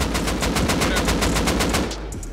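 A shotgun trap in Rust firing in a loud, rapid, evenly spaced burst of blasts close by, with no talk over it.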